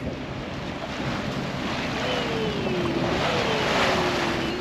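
Water rushes and washes steadily past a sailboat's hull as its wake spreads behind it under sail, with constant wind noise over the microphone. A faint tone rises and falls partway through.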